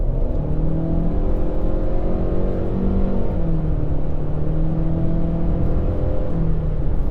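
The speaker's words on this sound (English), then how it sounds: "then you can hear that CVT drone as well" A Chery Tiggo 7 Pro with a CVT drones loudly and steadily under acceleration, its engine note holding a constant hum inside the cabin with only slight pitch shifts.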